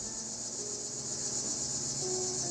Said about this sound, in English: Dang, that's a loud cicada.